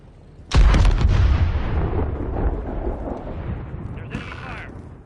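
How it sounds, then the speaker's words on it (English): Enemy fire erupts in a Call of Duty: Modern Warfare III campaign battle: one sudden loud blast, then a long rumbling decay and a smaller burst of noise near the end. "There's enemy fire."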